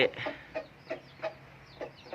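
A fighting cock clucks in a rapid series of short, rough calls, several bursts in quick succession, close by and fairly loud against faint outdoor background noise.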